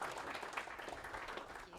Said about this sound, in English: so if you'll give her a round of applause.